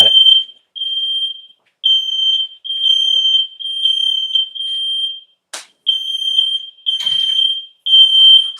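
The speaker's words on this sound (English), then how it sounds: "I think that's probably the smoke alarm from the corn." A smoke alarm goes off in a home kitchen while corn chowder cooks, sounding a loud, piercing high beep in steady repeated pulses with short gaps, and a brief sharp knock partway through.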